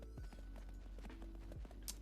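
A video game horse runs with quick repeated hoofbeats, steady and close, over a droning background tone; a brief bright chime near the end.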